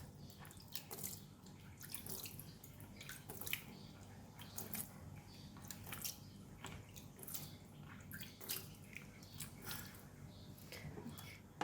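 Water is sprinkled by hand over a cloth covering sprouting beans, giving soft, scattered patters and drips in quick uneven bursts, faint and close, throughout.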